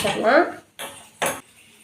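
A metal cooking pot clanks twice as it is set down on a stove burner, after a brief stretch of clattering kitchenware.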